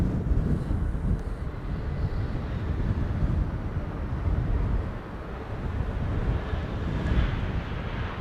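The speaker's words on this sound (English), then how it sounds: "Air Arabia Morocco, flight 127 arriving from Tangier in Morocco" Air Arabia Morocco airliner arriving at Amsterdam Schiphol on a windy day, a steady low roar of jet engines blended with gusting wind buffeting the microphone, continuous and moderately loud throughout.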